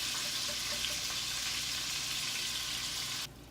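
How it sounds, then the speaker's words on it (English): Pinto beans fry in hot melted lard with a steady, loud, dense sizzle and crackle that fills the whole stretch and drops off sharply near the end. "Once the lard is melted, I'm going to start scooping in the pinto beans."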